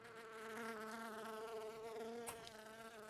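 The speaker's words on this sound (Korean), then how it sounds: "아, 나 파리 소리 시끄러 죽겠네." A housefly buzzes steadily and close through a match of the PUBG video game, a continuous droning whine that holds throughout with a brief click partway through.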